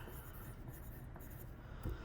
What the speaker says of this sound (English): what I'm going to do right here is I'm going to write the name I'm going to use, Carnegie, in all caps